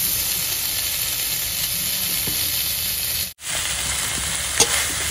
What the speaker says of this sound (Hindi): तो खोया डाल के इसमें अच्छे से इसको भून लेंगे खोया को